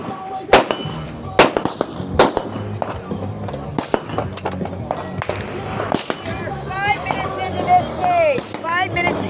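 Rifle shots crack during a competitive shooting stage, sharp loud reports fired in irregular bursts, with a commentator talking over them and chirpy squeaks near the end.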